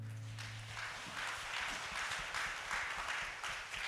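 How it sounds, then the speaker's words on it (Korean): A Korean church congregation at an autumn revival service bursts into applause, many hands clapping in a rough rhythm at a moderate, roomy distance after a fading sung tone. "우리 주님 앞에 감사와 영광의 박수"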